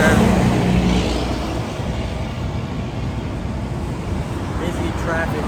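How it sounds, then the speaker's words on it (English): Dense roadway traffic near the Delaware River crossing into a new state gives a continuous loud rumble and hiss of passing vehicles, mixed with wind buffeting. "Busy traffic."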